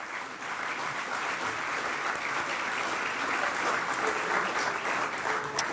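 Audience applause fills a graduation ceremony, a dense, steady wash of many hands clapping at even loudness for nearly six seconds, with no distinct voices rising above it.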